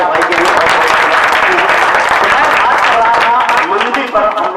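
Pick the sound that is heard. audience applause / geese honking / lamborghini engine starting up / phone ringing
audience applause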